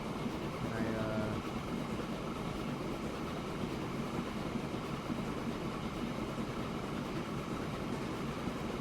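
Steady rumbling train running in the railway simulation game Transport Fever 2, a continuous mechanical drone with a brief tonal sound near the start, heard under occasional talk.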